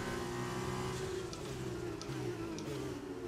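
Formula 2 race car engine from a 2020 racing video game, accelerating hard out of a braking zone in third gear; a steady, loud mid-pitched engine roar runs continuously with faint higher whines, alone without speech.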